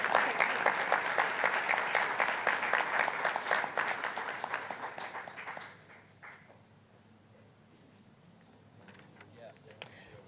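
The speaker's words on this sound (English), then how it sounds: "let's give them a round of applause." Audience applause for student artists at a school board meeting, a steady clatter of many hands that carries for about six seconds, then gives way to a quiet room with faint shuffling.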